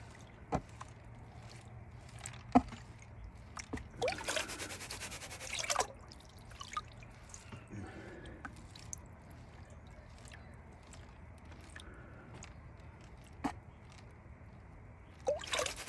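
A gold pan of water and sand being shaken and swirled, with soft sloshing, dribbling and occasional sharp drips and taps, close and fairly quiet.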